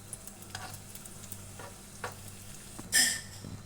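Cashews and raisins fry in a pan for carrot halwa, a soft steady sizzle broken by light stirring scrapes and one brief louder hiss near the end, close and fairly quiet with no talking.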